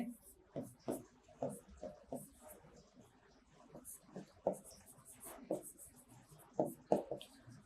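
Chalk or marker strokes on a classroom board as a teacher writes lines during a history lecture, a series of short scratchy bursts in an irregular rhythm, close and moderately loud, with a voice talking over them.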